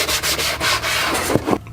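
Fine 1000-grit sandpaper rubs by hand over the seams of an EVA foam Judge Dredd helmet, making loud, close, steady scratchy strokes that continue without a break and drop off briefly at the end.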